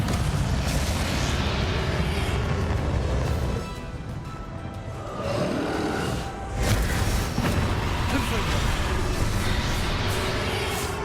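Bombarda and Confringo spells explode during a battle in the Hogwarts Legacy video game. Loud, rumbling blasts and bursts come one after another, with a short quieter lull in the middle.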